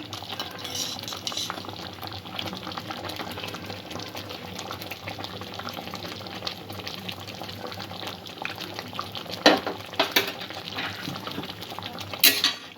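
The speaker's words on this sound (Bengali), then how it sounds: "2-1 মিনিট ফুটিয়ে নিয়ে চাটনিটা আমি নামিয়ে নেব" Raw mango and date chutney simmers in a pan, giving a soft, continuous low bubbling with a few brief louder clinks or stirring sounds near the end, and no voices.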